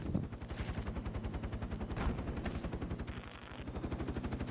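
Rapid automatic gunfire from a mosque in the Project Reality military shooter on the Muttrah map crackles in fast, steady bursts, sustained and fairly distant, with no talking over it.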